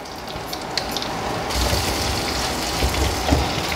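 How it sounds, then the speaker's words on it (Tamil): Green chillies fry in hot oil for a sundakkai tamarind gravy, giving a steady close sizzle that grows louder and brighter partway through, with no one talking. "பச்சை மிளகாவும் சேர்த்துக்கோங்க."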